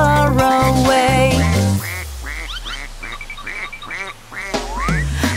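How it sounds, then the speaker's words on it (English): Cartoon duck quacks repeat in a bouncy rhythm through a children's nursery song about little ducks, a run of bright, nasal quacks over a simple musical backing, loud and upfront. "Mother duck said quack,"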